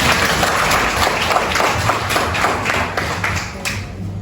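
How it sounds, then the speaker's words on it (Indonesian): Classroom applause during a practice teaching session, a steady spread of many hands clapping together, fairly loud and continuous from start to finish, with no voices over it. "oke, kasih tepuk tangan untuk kita semua."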